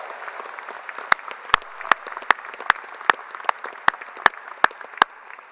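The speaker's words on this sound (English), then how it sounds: "How about a round of applause for all the mothers?" A high school graduation ceremony crowd applauds the mothers on Mother's Day. Loose, steady clapping spreads through the venue, with a dozen sharp, separate claps standing out close by over the fainter general applause.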